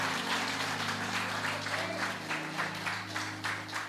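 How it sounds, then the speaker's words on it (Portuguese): A church congregation claps throughout a family worship service, a steady dense applause with a sustained organ or keyboard tone held underneath. "você pode aplaudir o Senhor no nome de Jesus?"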